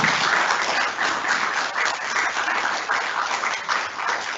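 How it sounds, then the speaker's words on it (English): Sustained audience applause at a school annual day, a dense, even wash of many hands clapping that fills the whole stretch without pause or talk. "Give them a big round of applause."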